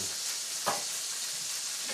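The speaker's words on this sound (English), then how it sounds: "I know to check them because I'm hearing the sizzle die down" Pink Lady apple slices frying in a pan, a steady close sizzle with one brief stir or scrape partway through and no talking.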